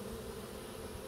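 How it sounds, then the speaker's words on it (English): A steady, unbroken buzzing drone of many honeybees in flight around a hive, some returning with pollen, close and fairly quiet, holding an even level throughout with no talking. "I'm seeing a lot of bees coming in with some"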